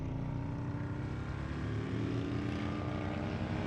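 Racing bagger motorcycle engine at Gingerman Raceway, a steady loud onboard drone with strong low harmonics as the rider holds and rolls on the throttle, continuous for the whole span with no talk.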